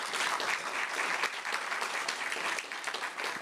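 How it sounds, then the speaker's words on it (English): An audience at a live-streamed panel event in Barbados applauds the panelists, with a steady, moderately loud round of clapping and sharp individual claps standing out, no talk over it. "we really do want to give them one more round of applause"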